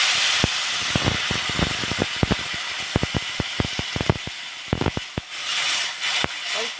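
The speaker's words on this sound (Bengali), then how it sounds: "কষানো হয়ে গেছে, এবারে দিয়ে দেব জল।" Water hits a hot pan of fried spices for a raw tomato and small fish curry, setting off a strong, steady hiss and sizzle dotted with sharp crackling pops, close and loud.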